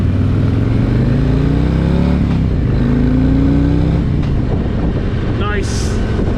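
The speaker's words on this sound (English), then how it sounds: "This bike sounds good. Wow. Great sound to it." A Harley-Davidson touring motorcycle, a Street Glide or Road Glide, rumbles loudly on the road, its engine note rising and falling through gear changes, with a rider talking over it.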